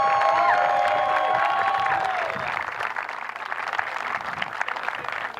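A crowd at a state Little League championship game applauds and cheers for the tournament president, a sustained wash of clapping with whoops and shouts rising and falling, fairly loud and spread across the stands.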